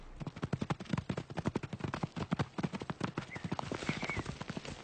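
Rapid, dense clatter of many wild horses' hooves pounding close by as a herd stallion attacks, an irregular galloping rhythm throughout.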